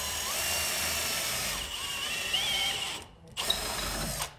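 Power drill fitted with a mortise bit boring a door knob hole through a wooden door, a loud, whining motor drone that runs steadily, dips as the load changes, stops briefly, then spins up again, with no talking.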